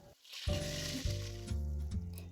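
Chicken pieces browning in a pan for Filipino kinamatisang manok, a steady close sizzle from the hot oil with soft stirring and pan scrapes breaking through, no talk.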